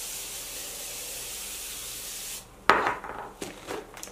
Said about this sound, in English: This is the Morphe Continuous Setting Mist.